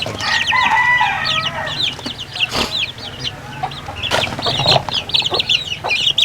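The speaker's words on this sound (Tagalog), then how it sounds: "Sabi nila Australorp na klase ng manok to, itong malaki na to, itong itim." Black Australorp chickens in a farm pen cluck close by, with repeated sharp, rising calls and a few louder bursts, while livestock rustling sounds underneath.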